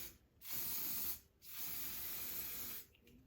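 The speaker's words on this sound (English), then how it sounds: "let me go ahead and spray this right on the hairline" Two long hissing sprays onto a lace wig hairline, close up, separated by a short pause, followed by a brief third burst.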